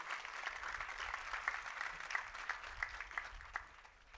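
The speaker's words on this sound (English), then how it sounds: "Let's give him another round of applause, please." An audience at a university graduation ceremony claps steadily, a dense patter of many hands heard from a distance and fairly faint, holding an even level throughout.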